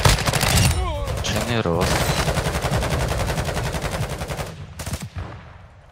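Rapid automatic gunfire rattles in dense, sustained bursts in Call of Duty Modern Warfare II Warzone 2.0 DMZ, close and loud, with short pauses and someone speaking briefly over it.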